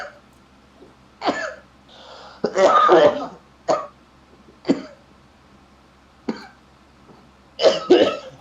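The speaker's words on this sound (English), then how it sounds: "I don't know why I find people coughing funny, but I do" Several harsh coughs and throat-clearing bursts at irregular intervals, close up, with quiet gaps between them.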